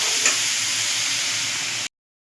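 Dried shutki fish frying in oil with salt in a pan, a steady close sizzle that cuts off abruptly near the end.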